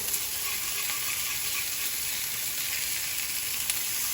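Thin hamburger patties fry in a pan with a loud, even sizzle and hiss that runs steadily throughout, close up, with no talking.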